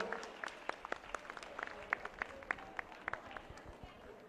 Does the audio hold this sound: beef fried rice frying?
no